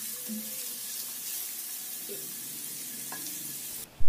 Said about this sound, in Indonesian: tumis potongan bawang putih dan bawang merah